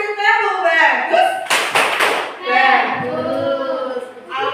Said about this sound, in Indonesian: Kasih tepuk bagus.